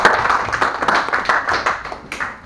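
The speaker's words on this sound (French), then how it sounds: "Vous pouvez les applaudir." A group of children clap together at a French football training camp, a dense burst of many small hands forming steady, lively applause that stays close and fairly loud throughout, with no talking over it.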